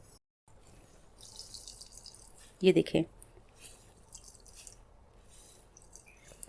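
Chopped onions are squeezed in a cloth for chapli kabab, giving a brief, close burst of wet squishing and water splattering after a quiet pause, while a person talks over faint kitchen noise.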